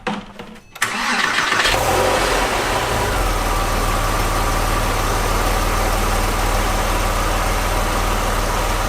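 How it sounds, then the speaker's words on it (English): A Porsche 911 engine with a suspected head gasket problem cranks briefly, catches and settles into a steady, loud, close idle that drones on without a break. "we're gonna start running this engine"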